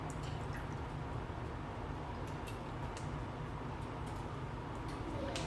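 A liquid ingredient poured into an oatmeal bake mix in a home kitchen, heard as a faint, steady trickle with a few soft drips and clicks over low room hum.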